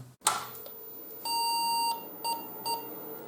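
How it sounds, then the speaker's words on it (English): A sharp click is followed by electronic beeps: one long tone, then two short ones, the boot beep code of a PC/XT clone computer with an MFM hard drive, in a quiet room. "when it boots up it gives a beep code"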